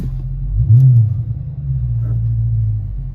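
A 2023 Dodge Challenger launches from a brake-and-throttle start with a loud, close, low engine rumble. The engine surges briefly, then settles into a steady drone, with no speech over it.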